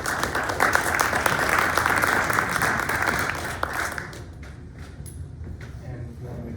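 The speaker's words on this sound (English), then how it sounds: "Round of applause, please." A forum audience gathered to discuss overdose deaths applauds in a thick, steady burst of many hands for about four seconds, then the clapping thins out to scattered claps and room noise.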